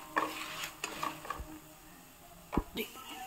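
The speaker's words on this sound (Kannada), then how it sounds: "ಧನಿಯಾ. ಇದನ್ನು ಚೆನ್ನಾಗಿ ಹುರ್ಕೊಳ್ಳಿ." Coriander seeds roast in a dry pan over medium heat, with a few sharp scraping stirs and light crackling against a quiet background, while someone speaks briefly.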